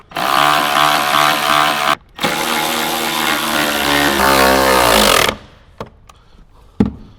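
A power tool whirs loudly, up close, in two long runs while tightening subwoofer bolts inside a Jeep Wrangler JL. The pitch shifts as it loads, followed by a few sharp clicks and knocks.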